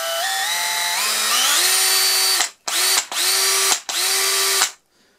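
A Makita CXT 12V cordless drill whines as its speed climbs steadily from low, then cuts out and restarts in three short high-speed bursts, loud and close with nothing else heard.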